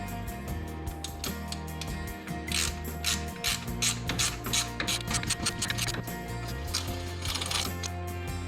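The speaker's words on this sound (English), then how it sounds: "they take a 17mm wrench" Rapid ratcheting clicks of a 17mm wrench loosening the front brake bolts on a Subaru, close and loud, in repeated bursts with brief pauses between strokes.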